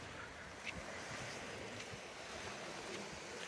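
Sea surf washes steadily onto the Crimean shore near the village of Malorechenskoe, a continuous soft roar with faint wind, moderately distant and without voices.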